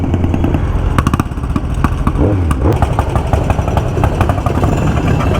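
Motorcycles at the Faaker See motorcycle gathering in Austria, engines idling and revving with a steady, dense mechanical rumble and clatter that fills the scene throughout.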